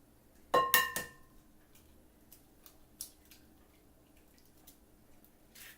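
Eggs cracked for a hamburger mix: a quick cluster of sharp shell taps and clinks against a bowl, then a single faint knock a couple of seconds later, in an otherwise quiet room.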